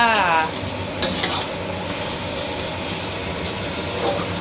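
Pork for Thai pad see ew stir-fried in a hot pan, a steady loud sizzle with scraping stirs, and someone talking over the cooking.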